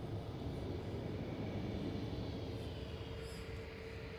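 A Cathay Pacific airliner arriving from Hong Kong at Manchester Airport, a steady distant jet roar droning evenly throughout with no voices.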